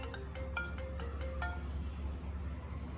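iPhone 5 ringtone plays a short run of bright melodic chime notes, faint but clear, then fades away over a low steady background hum.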